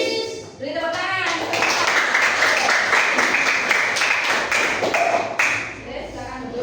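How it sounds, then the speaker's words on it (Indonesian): A class gives a burst of applause, dense hand claps rising sharply at the start, holding steady for several seconds, then tapering off, with a voice briefly audible at the opening. "Beri tepuk tangan."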